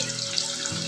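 Potatoes frying until crispy, for a cheesy corn stuffed potato dish, giving a soft, steady sizzle close by over a brief moment, with no voices.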